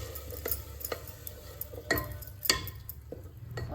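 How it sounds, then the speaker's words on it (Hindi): A spoon scrapes and knocks in a pot as grated tomato is stirred together with golden brown onions, making scattered clinks and scrapes over a low, soft cooking background, with no voices. "अब हम टमाटर को प्याज के साथ अच्छी तरह से मिक्स करके पकने देते हैं"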